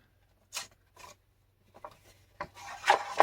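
Paper or card flap of a handmade two-signature journal cover being cut off, a few short dry rasping snips spaced apart, growing louder and denser near the end, no talking.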